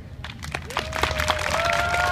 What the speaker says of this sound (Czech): Je potřeba, aby se zatleskali víc.